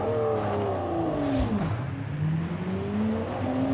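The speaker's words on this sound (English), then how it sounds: "put up the game volume so you guys can listen to this V12 scream" Lamborghini V12 engine in the video game Forza Horizon 5, a loud continuous engine note rising and falling through acceleration with a gear change midway, alone without talk.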